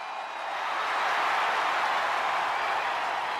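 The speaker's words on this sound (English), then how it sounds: "They're already feeling it, already feeling the energy of the crowd." A wrestling arena crowd in the video game WWE 2K25 roars as a steady, dense wash of cheering that swells slightly and holds at full level.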